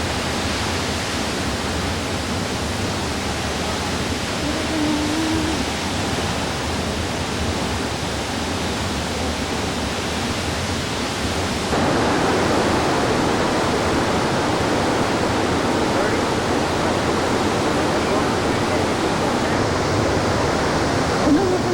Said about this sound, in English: we'll walk down this trail and take a closer look at the waterfall